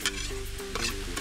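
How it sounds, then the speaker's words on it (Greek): Cuttlefish and spinach frying in a pan as fresh dill and herbs are stirred through, a steady close sizzle with scraping spoon strokes across the pan. "Ανακατεύω."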